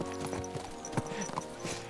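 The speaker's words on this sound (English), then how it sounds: "Let's really spur these horses on, eh?" Horse hooves clip-clopping on the ground while riding in the video game Kingdom Come Deliverance II, a steady run of close, sharp knocks with one louder strike midway over a faint background, no speech.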